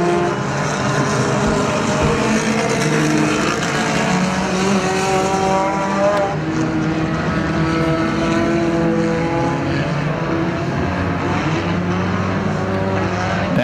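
Mini stock race cars roar around Perris Auto Speedway in a main event, a loud, continuous engine drone with shifting tones as the pack circles, with no talk over it.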